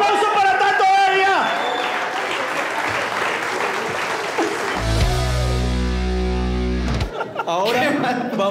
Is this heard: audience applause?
yes